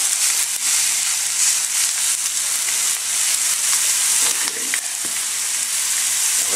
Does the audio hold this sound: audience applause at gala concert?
no